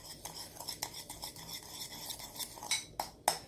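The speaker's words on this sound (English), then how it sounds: "and quickly stir it" Metal spoon stirring liquid in a bowl while making edible sugar rainbows, quick repeated clinks and scrapes against the bowl, close and fairly quiet, with a few sharper taps near the end.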